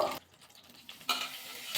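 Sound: potatoes and cauliflower frying in oil

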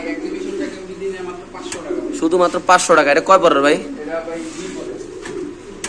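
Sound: exhibition pigeons cooing

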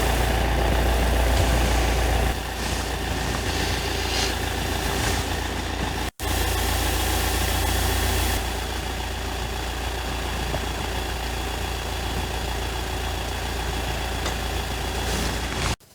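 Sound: Volkswagen Crafter 2.0 TDI 177 hp diesel engine idling

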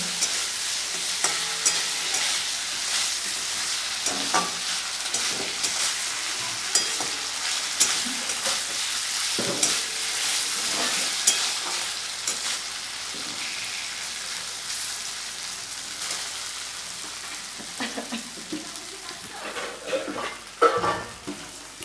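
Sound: ginger paste, onion and garlic frying in a pan

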